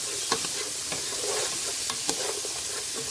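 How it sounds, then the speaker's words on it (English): Onions sauté in a pan over medium heat for a vegan rasta pasta, with a continuous soft sizzle broken by a few light clicks and scrapes of stirring and no voices. "Add the onions, like I said, keep stirring it."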